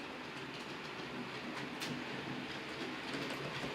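Model trains run steadily around a model railway layout, giving a continuous close rumble with faint clickety-clack of wheels over rail joints and no talking.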